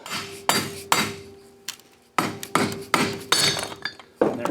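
Heavy hammer blows strike a Briggs & Stratton engine flywheel to knock it loose from the crankshaft, about eight loud metallic whacks in uneven bursts with ringing clangs between them.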